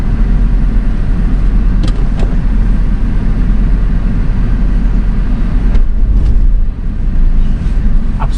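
A car pulling away in first gear during a beginner driving lesson, giving a loud, steady engine drone heard from inside the cabin with no talking.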